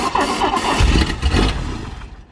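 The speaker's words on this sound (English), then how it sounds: "I'll tell you it's a Volvo engine." Original Volvo engine in an old, long-neglected DeLorean cranking and catching, a loud close burst of starter churn and rough firing that settles and fades within a couple of seconds.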